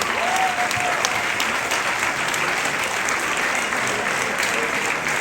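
An audience at a school ceremony honouring exam laureates claps loudly and steadily throughout, a dense, sustained wash of hand claps with no break.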